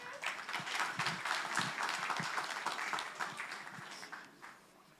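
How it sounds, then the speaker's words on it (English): An audience at a tribute event applauds a speaker as he is invited to the stage, a soft, steady patter of many hands that continues evenly and then thins out at the end. "Please give him a round of applause."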